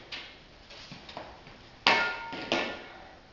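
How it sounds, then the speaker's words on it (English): A metal ice chisel chips a hole through lake ice for walleye ice fishing: a few sharp, close strikes, the last two loudest, with no talking. "you can use an ice chisel, which is by far takes the longest because you have to chip out a hole in the ice like such"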